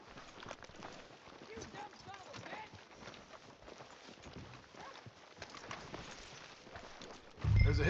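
Horse hooves clip-clop steadily on a town street in Red Dead Redemption 2, a soft rhythmic patter under game music and ambience, ending with a sudden louder low thump.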